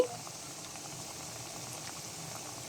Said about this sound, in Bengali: এই যে খুব সুন্দর কালারের চপগুলো আমরা ডুবো তেলে দিয়ে দিয়েছি